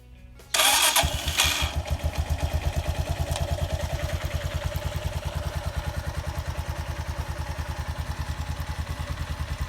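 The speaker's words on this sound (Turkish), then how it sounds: "Evet arkadaşlar artık motorumuz ee, tek ayak üzerinde çalışacaktır" A Bajaj Pulsar NS 150 / MR 150 motorcycle resting on its side stand starts with a sharp burst, then settles into a steady, rhythmic idle thump, close and alone.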